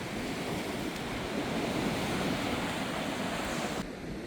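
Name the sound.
sea waves and wind on rocky coast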